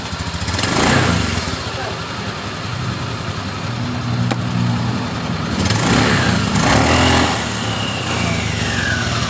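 Scooter engine running after a CVT roller replacement, a steady close idle with a few revs swelling and falling.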